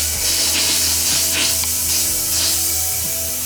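Air rushes in a steady, bright hiss from a hot water tap opened after a water heater was replaced, before the water arrives. The hiss comes with faint gurgling and runs throughout.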